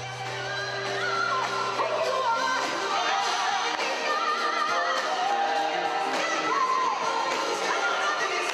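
A large crowd of Democratic supporters cheering for Barack Obama at the party convention, a continuous loud roar of shouts and whoops swelling slightly and holding steady throughout, with no clear talk over it.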